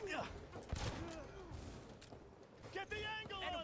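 Bursts of gunfire and thuds from the video game Cyberpunk 2077 sit beneath a steady wash of game sound, partly masked by overlapping voices.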